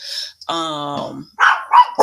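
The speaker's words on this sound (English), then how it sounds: "I'm trying to see what the dog's barking at" A dog on a homestead barks close by: one long, drawn-out bark followed by several shorter, sharp barks in quick succession.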